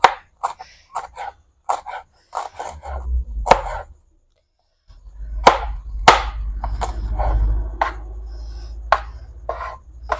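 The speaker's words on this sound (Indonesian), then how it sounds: "Ini Bunda mau mulai dulu ngiris bawang" Shallots and garlic being sliced with a knife on a cutting board, a series of sharp, close, irregular chops with a short pause midway.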